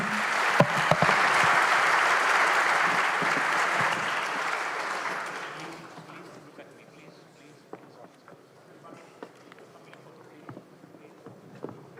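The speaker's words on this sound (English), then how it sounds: "provide a warm applause for our panelists" Conference audience applauding panelists at an industrial carbon management forum, dense clapping for about six seconds that tapers into scattered claps and room noise, with a voice speaking faintly afterward.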